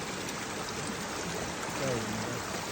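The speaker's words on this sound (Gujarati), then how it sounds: "આમ જો પહાડોમાંથી પાણી આવે છે" Mountain water tumbling down along the trekking route to Madmaheswar, a steady close rushing wash with a faint voice barely audible underneath.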